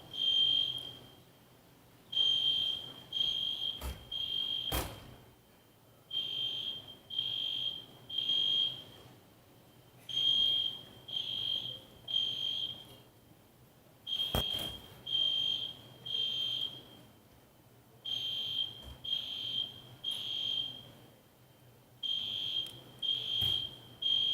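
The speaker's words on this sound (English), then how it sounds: "By mistake, someone has pressed the fire alarm button." An accidentally pressed fire alarm sounds at a question-and-answer event, sending out a long, fairly faint run of evenly spaced electronic beeps in repeated groups, with occasional sharp knocks between them.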